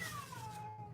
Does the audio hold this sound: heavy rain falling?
no